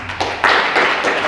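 An audience at a lecture on natural language processing breaks into applause to welcome the speaker, starting with a few claps and swelling into fuller, sustained clapping.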